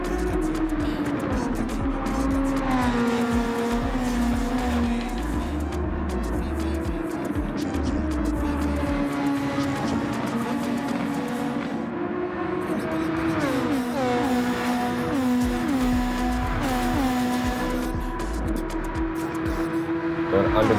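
Lamborghini and Nissan race cars at Monza, their engines droning continuously with rising and falling pitch as they pass and shift, loud and close throughout, with commentary talking over the racing noise.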